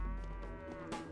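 Cows moo in the video game Pathologic, a drawn-out lowing call with a steady harmonic tone, loud and close, ending with a brief rustle.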